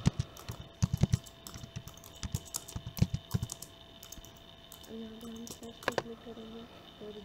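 Typing on a computer keyboard while entering a legal search query on a law website, with bursts of quick clicking keystrokes in a quiet room, a steady electronic hum and a brief tonal beep near the end.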